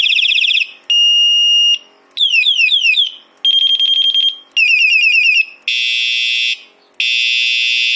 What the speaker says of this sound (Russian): И дополнительно к фонарю, из-за чего, собственно, покупалось это приспособление, добавлен сигнал.